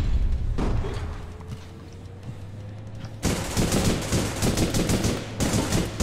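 Rapid bursts of gunfire crackle loudly, with a sustained automatic volley in the second half over a low electronic hum.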